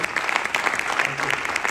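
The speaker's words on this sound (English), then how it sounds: "Can we please have a loud round of applause for him, please?" Steady, dense applause from an audience at a community gathering, loud and continuous throughout with no speech over it.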